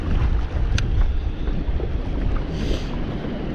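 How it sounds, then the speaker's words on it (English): Strong wind buffeting the microphone on a boat while fishing on the Ohio River below an old dam, a loud continuous low roar with gusts and no talking. "This wind is insane"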